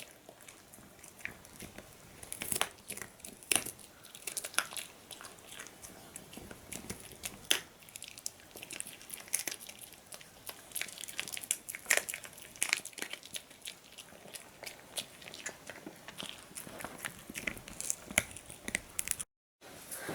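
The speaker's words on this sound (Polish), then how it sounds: "I zajadł tego gryzaka." A dog gnaws and crunches on a chew toy up close, with irregular crinkling bites and chewing bursts continuing steadily on their own.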